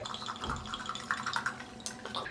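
Stella Rosa wine is poured into a glass nearby, making a continuous liquid splash and gurgle with small clinks and bright trickling over several seconds.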